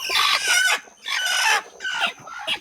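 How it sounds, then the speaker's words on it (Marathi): Free-range village hens cluck and cackle from egg-laying boxes in a poultry shed, three loud, close bursts of squawking calls separated by short pauses. "प्रत्येक डब्यात एक एक कोंबडी बसलेली आहे"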